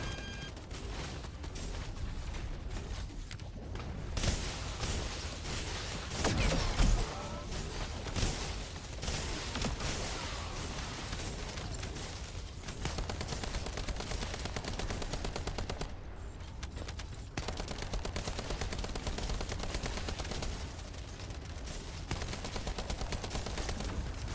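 Sustained automatic gunfire from the shooter video game The First Descendant, a dense rapid stream of shots running nearly nonstop for the whole stretch, with brief gaps and a few heavier bursts mixed in.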